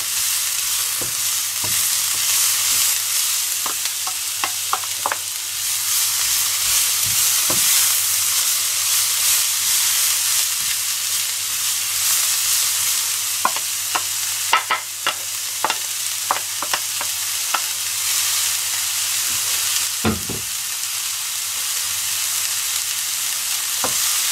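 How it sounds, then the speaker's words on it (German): White cabbage and onions fry in a pan, a steady loud sizzle with scattered crackles and occasional clinks of stirring throughout, no voices. "So, der Weißkohl ist ein bisschen angebraten. Jetzt geben wir die Zwiebeln schon mal dazu."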